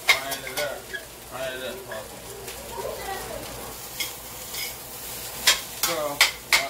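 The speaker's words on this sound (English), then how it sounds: "So we're gonna just kind of fry it up." Rice frying in oil for pork fried rice, stirred in a pan: a steady close sizzle with scraping stir strokes and a few sharp clinks of utensil on pan.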